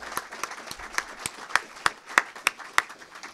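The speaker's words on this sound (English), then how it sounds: "So can I have a round of applause again for everyone?" A few people clap at a talk on fixing science, with distinct, regular individual claps about three per second, fairly faint and roomy, from a small audience.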